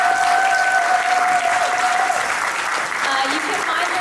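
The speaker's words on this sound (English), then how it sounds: "can we give an applause for this amazing guy?" An audience at a real estate panel for Asian women applauds a panelist with steady, full clapping that holds at an even level for about four seconds. A tonal voice or hum sits faintly underneath.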